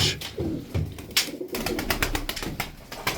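Tumbler pigeons at their coop coo softly in low, repeated throaty calls, overlapping with scattered fluttering and background noise nearby.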